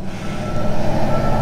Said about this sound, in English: Sorry, loud truck going by.